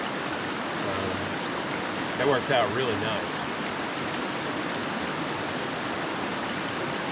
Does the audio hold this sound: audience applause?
no